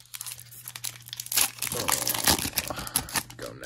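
The foil wrapper of a 2023-24 O-Pee-Chee hockey card pack crinkles and tears open in close, sharp bursts of crackling that grow busier and then settle.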